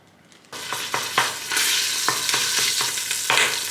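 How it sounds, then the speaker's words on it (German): Minced meat fries in an oiled pan with a continuous sizzle, broken by repeated scraping and stirring strokes. It is close and fairly loud, with no talking. "Hackfleisch einmal anbraten."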